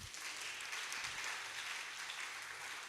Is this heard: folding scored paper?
no